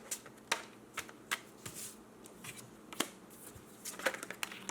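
Tarot cards are shuffled by hand at close range. Quick irregular riffling flutters and sharp card slaps repeat steadily throughout at a soft level, with no voices.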